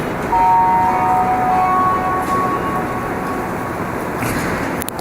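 A short two-tone electronic departure chime sounds over the loud rumble of a Montreal metro train, the tones ringing out briefly above the rolling noise.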